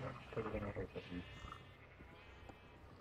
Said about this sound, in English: You stupid sheep! Get in!